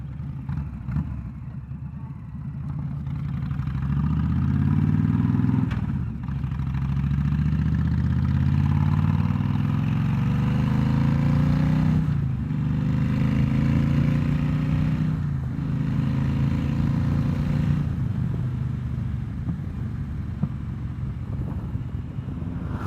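A Honda VTX1300 motorcycle engine idles with a deep, throbbing exhaust rumble, close and loud, the pitch rising and falling slightly as the throttle is blipped.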